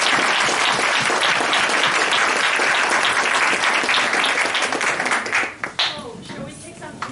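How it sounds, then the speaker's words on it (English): Audience at a candidate forum bursting into sustained, dense clapping from a roomful of people, holding steady before tapering off into scattered claps and murmuring voices. "give ourselves a big round of applause"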